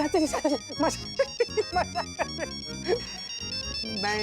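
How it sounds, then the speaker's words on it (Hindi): A mobile phone ringtone plays as a melodic, repeating tune of bright chiming notes that runs steadily through the whole moment, loud and close, with background sound mixed in. "कौन तुझे इतना फोन कर रहा है? उठा ले फोन।"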